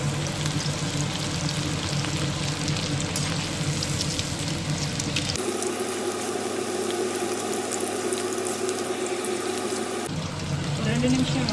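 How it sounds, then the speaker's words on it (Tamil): Chicken pieces deep-frying in hot oil for dragon chicken, giving a dense, steady, loud sizzle that carries on without a break, with a slight change in its texture partway through. "சிக்கனை கொஞ்சம் ரொம்ப போட்டு பொரிச்சு எடுத்துக்கோங்க."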